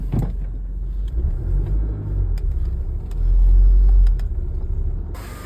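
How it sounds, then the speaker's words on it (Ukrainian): A car rolls into a parking car lift in a European garage, its engine rumbling steadily nearby and swelling briefly louder as it moves in, with faint clicks around it. "Ліфт відкривається і автомобіль заїжджає."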